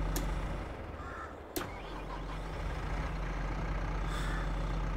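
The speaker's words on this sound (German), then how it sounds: "Motor läuft." Fendt Vario 300 tractor engine idling and running in Farming Simulator 22, a steady low drone held throughout with one sharp click partway, no speech.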